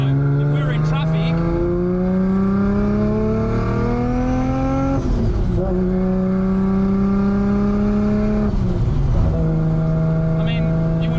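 A car with a 2.6-litre big-turbo engine drives along, its engine note rising through the gears in long climbing tones, with upshifts near five and nine seconds, heard from inside over a person talking.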